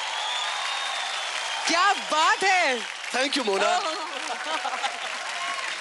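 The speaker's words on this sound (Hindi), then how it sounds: "फिर से जोरदार तालियां" A studio audience at a televised singing competition applauds steadily throughout, while people speak over the clapping.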